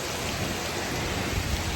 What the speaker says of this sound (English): Here's all the rain you could ever have.